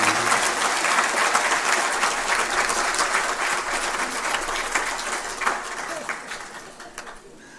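A large audience claps at a women's event, a loud dense roar of hands that gradually tapers off, with a pigeon cooing faintly in the background.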